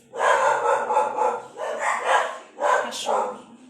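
A dog barks in a rapid series of loud, close yaps, in three bursts with short pauses between them.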